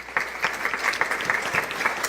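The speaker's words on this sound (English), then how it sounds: "Let's hear a big round of applause for Talmage Boston." An audience claps for a guest at an evening book talk, a dense, steady round of applause from a crowd filling the room throughout, loud and close.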